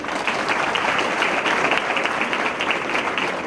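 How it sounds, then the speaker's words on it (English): Sustained audience applause fills a school's annual prize distribution ceremony, a dense, steady wash of many hands clapping at close range with no pauses. "A big round of applause, please."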